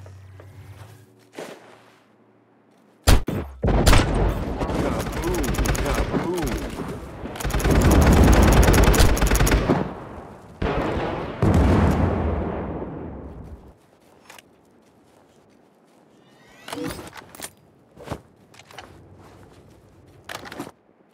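Battle Prime team deathmatch combat: loud rattling automatic gunfire and booming blasts swell into a dense mid-section, then thin to scattered sharp shots and footsteps, with game voice lines around it.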